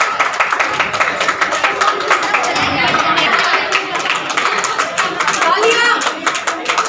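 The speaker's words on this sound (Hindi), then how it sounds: "तालियां बजती रहनी चाहिए।" Crowd at a school Kabir Jayanti drawing and yoga quiz event claps steadily and densely throughout, with chatter and voices mixed in.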